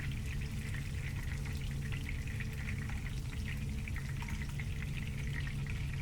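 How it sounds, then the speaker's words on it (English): King trumpet mushrooms fry in a little oil in a pan, a soft, steady crackle and sizzle with faint spattering pops, fairly quiet and unbroken, with no one talking. "we fill the pan with a little bit of oil and add those king trumpets"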